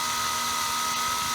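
Power drill driving the screw on a stock hose clamp of a Mercedes cold air intake, a close, steady high-pitched whine held throughout the short burst.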